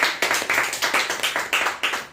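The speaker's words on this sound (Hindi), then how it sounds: "जोरदार तालियां उनके लिए" Audience clapping at a Wednesday church service, a short burst of brisk, fairly even claps from a small group, close and clear with nothing else heard.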